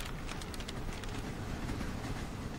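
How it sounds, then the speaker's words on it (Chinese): A subway train runs with a steady low rumble and hiss and faint rhythmic rattles, a continuous and fairly quiet carriage interior sound in an animated series. "我们还在地铁上呢"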